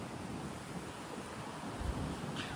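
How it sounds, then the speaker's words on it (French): Steady outdoor west wind near a thunderstorm rushes and buffets the microphone, a low broad roar with gusts, no voices. "Donc là on a vent d'ouest."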